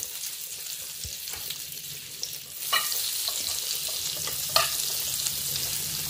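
Butter sizzles and fries in a pan as the base for a white sauce, a steady crackling hiss with a few sharper spits and pops, close and alone with no talk.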